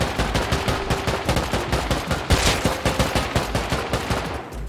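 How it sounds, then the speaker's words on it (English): Rapid gunfire in the survival game Rust, with dense back-to-back shots in a steady, driving rhythm, loud and close throughout, trailing off at the end. "That beast behind us is shooting at us."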